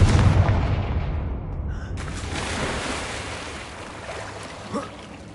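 Confringo explosive spell going off in Hogwarts Legacy, a deep booming blast that rolls out over a few seconds of rumbling, washing decay, followed by a smaller thud near the end.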